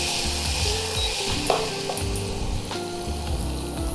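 Oil and butter melt and sizzle in a pan, a steady close frying crackle with faint scraping and a soft clatter partway through, no voices.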